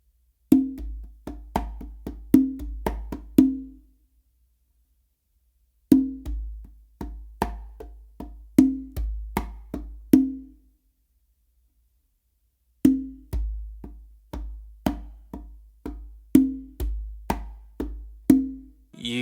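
Modern funk groove on one conga, with sharp slaps, soft finger strokes and resonant open tones in repeating phrases, separated by pauses. The drum sounds close, dry and solo.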